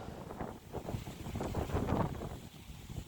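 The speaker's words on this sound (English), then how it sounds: "It's been really windy." Gusty wind in Las Vegas buffets the microphone in a continuous low roar that swells and eases, with no voices.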